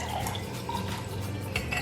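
Cold water pours into a cup, a soft, close trickling and splashing that runs briefly and quietly without talk.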